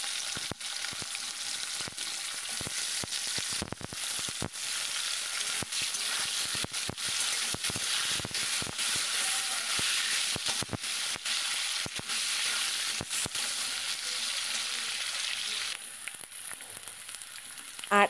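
Thick-cut potatoes fry in hot oil in a pan with black cumin seeds, giving a steady bright sizzle with scattered sharp crackles and pops, fairly quiet and close.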